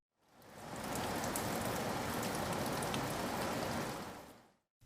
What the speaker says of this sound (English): let's make it rain.